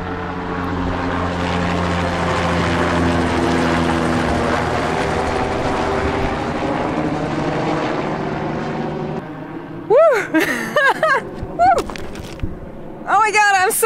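A helicopter lifts off and flies away from a river drop-off in the Canadian wilderness on Vancouver Island, its loud rotor thrum holding steady for several seconds before fading. Excited shouting and talk follow once it recedes.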